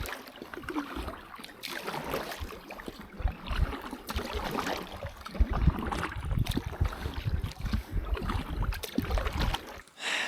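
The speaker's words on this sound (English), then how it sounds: "the boat wasn't inflated all the way, which made it really hard" Paddle strokes splash and slosh around a partly deflated inflatable boat on open water in Finland, a continuous wet churning at close range with no talk.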